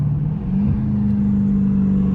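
Supercharged Dodge Challenger Hellcat on a drag pack, heard from inside: a steady deep engine drone with a rising tonal hum, continuous and close.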